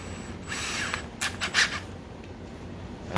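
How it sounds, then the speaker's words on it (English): Electric drill spinning a homemade bent-wire beater to whip clay slip into a froth, a steady close whir with brief louder bursts as the wire churns the wet mix. "I just took a piece of wire and I made myself a beater for my drill"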